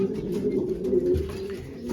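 Racing pigeon hens coo inside their loft, a steady close chorus of low, rolling calls that overlap for the whole stretch, with faint rustling and no speech.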